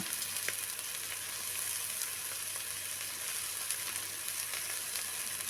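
Cabbage and capsicum stir-fry in a hot pan for hotel-style prawn fried rice. A continuous loud sizzle with faint clicks of stirring fills the whole stretch, and there is no talk.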